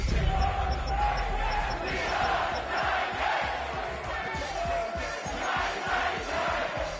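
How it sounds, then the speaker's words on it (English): Crowd yelling and cheering in the Madden football video game, a dense, steady roar of many voices with rhythmic thumping pulses underneath, holding at a fairly even level for the whole stretch. "crowd's yelling."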